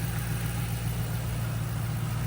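A 2005-2009 S197 Mustang engine runs at a steady idle, a close, constant low drone with no change in pitch and no voices over it.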